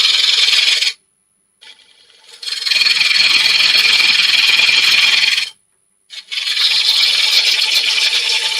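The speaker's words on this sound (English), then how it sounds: "I'm using a push stroke with my half-inch ball gouge" A half-inch ball gouge on a push stroke cuts into a wood bowl on a lathe, giving a loud, hissing scrape in two long passes broken by brief pauses.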